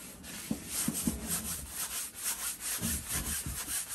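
A big brush wets a painting canvas with paint thinner, giving soft, repeated rubbing strokes with a few slightly firmer swipes, close and fairly quiet, no talking.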